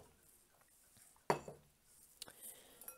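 A mixing bowl holding a flour mixture for pancakes is set down on a counter with one sharp clunk, followed by a few faint clinks in a quiet kitchen.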